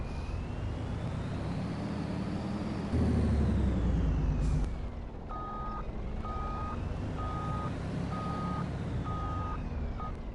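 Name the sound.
truck reversing beeps in Farming Simulator video game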